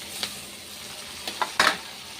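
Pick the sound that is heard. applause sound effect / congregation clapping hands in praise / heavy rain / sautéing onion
sautéing onion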